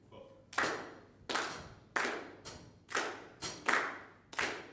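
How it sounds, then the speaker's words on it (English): A group of young jazz musicians claps a rhythm together, seven sharp ensemble claps spaced at roughly regular intervals, each ringing briefly in a reverberant room. "See if you can join in with the group as they clap it."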